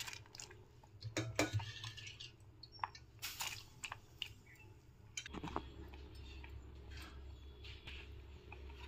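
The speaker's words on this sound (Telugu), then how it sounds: "ఇప్పుడు ఇందులోకి మనం నానబెట్టుకున్న పెసరపప్పు వేసుకుందాము." Soaked moong dal tipped into a pot of cooking rice for jaggery pongal, with clinks of a metal vessel, soft wet plops and scraping stirring, fairly quiet and close.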